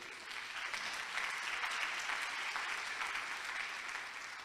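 A church congregation claps together in a sustained round of applause, steady and even for several seconds, a little distant and soft.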